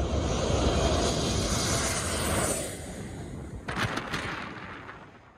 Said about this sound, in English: However, the plane flies perilously close to the innocent bystanders.